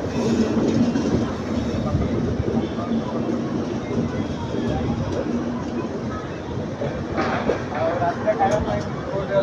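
A passenger train on the Salem to Bangalore line runs along the rails with a steady, loud rumble and rhythmic wheel clatter, while people talk faintly underneath.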